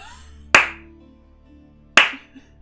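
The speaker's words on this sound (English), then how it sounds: "See how I clap?" Two sharp, loud hand claps spaced about a second and a half apart, each ringing briefly in a quiet room, with no talking.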